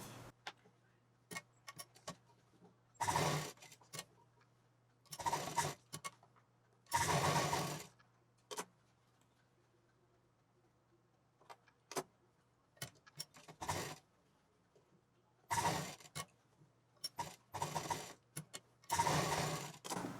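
A flat sewing machine stitches along the edges of leftover cloth in short, separate bursts of fast mechanical whirring, several runs of a second or so with quiet gaps and faint clicks between.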